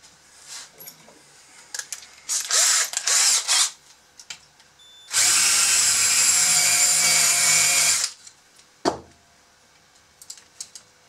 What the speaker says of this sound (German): Wir können das jetzt natürlich auch noch ein bisschen ansenken hier, damit es ein bisschen schöner ausschaut.